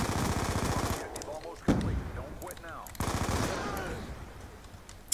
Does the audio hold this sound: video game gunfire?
yes